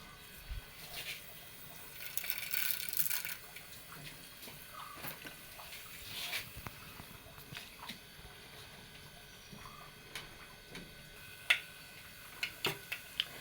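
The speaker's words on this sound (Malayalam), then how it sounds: "ഇതാ കുറച്ച് ഓയിൽ ഒഴിച്ചു, കടുകിട്ടു, ഇതാ കുറച്ച് കടലപ്പരിപ്പ്, ഇതാ കുറച്ച് ഉഴുന്ന് പരിപ്പ്," Mustard seeds, chana dal and urad dal crackle in hot oil, giving faint, scattered pops and ticks over a quiet hiss, with a few sharper snaps near the end.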